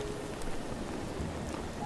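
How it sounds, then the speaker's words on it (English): Steady rain in The Legend of Zelda: Breath of the Wild patters densely on surfaces, an even hiss with scattered drops, fairly close and without voices. "And it's raining now."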